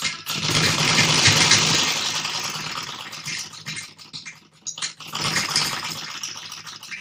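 A sewing machine stitching a blouse with short stitches runs in a loud, close, rattling whir, pauses briefly midway, then starts up again for a few more seconds, with no talking.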